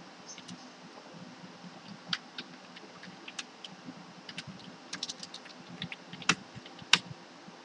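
Fingers typing code on a computer keyboard, giving a steady stream of light, quiet key clicks with a few sharper strokes, close by and alone against a low background hum.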